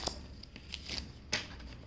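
A deck of tarot cards gets a quick shuffle, a few soft, brief riffling flicks heard close up and fairly quiet with no talking.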